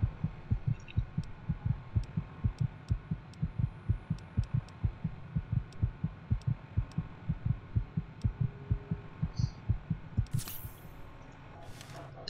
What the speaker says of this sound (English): now I don't have to listen to the incessant beating of that heart beat